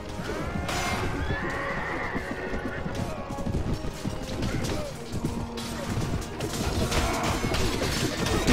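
Horses in a mounted battle in a Mount & Blade Warband mod, neighing and clip-clopping amid clashing, crashing impacts, with a voice talking over the fray.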